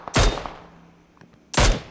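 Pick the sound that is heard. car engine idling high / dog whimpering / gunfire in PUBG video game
gunfire in PUBG video game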